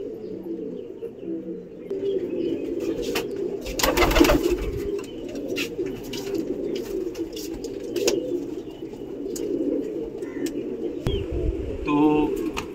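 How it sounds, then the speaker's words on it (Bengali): Pigeons in a loft keep up a continuous chorus of low, throaty cooing, with occasional sharp knocks and wing rustles nearby. "দেখুন সব পায়রা এখানে পুরো পারফেক্ট।"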